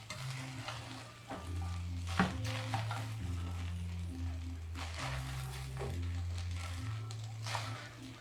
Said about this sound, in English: Then I'm going to just stir all this in together.